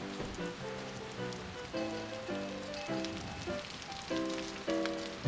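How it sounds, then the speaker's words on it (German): Steady rain falls in the video game Alice: Madness Returns, an even patter that runs beneath layered sustained game music with no talking. "Und wir rennen hier schön im Regen rum, super."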